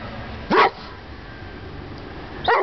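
A dog gives two short, sharp barks about two seconds apart, close by outdoors in the snow, with quiet background between them.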